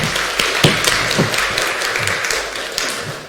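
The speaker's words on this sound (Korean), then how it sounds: "한번 우리 환영의 박수 한번 부탁드리겠습니다" Church congregation giving welcoming applause during a Sunday worship service, steady loud clapping with a few sharper individual claps standing out near the listener.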